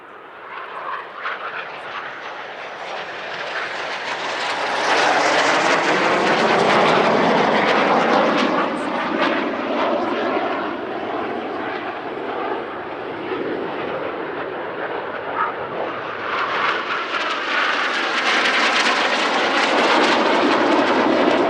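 Frecce Tricolori jets of the Italian Air Force cross over show centre at a centenary airshow, a loud, sustained roar that swells, eases slightly and builds again as the formation passes.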